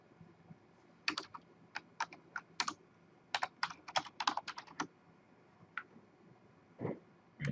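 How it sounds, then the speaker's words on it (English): Quiet, scattered clicks of a computer keyboard being typed on in short uneven bursts, with pauses between. "I know pretty much that I'm typing it incorrectly"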